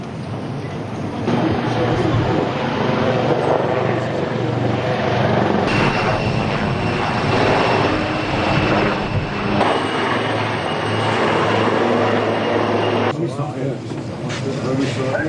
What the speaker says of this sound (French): en faisant intervenir des hélicoptères de combat et de sauvetage